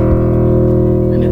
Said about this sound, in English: So an open string sounds like this.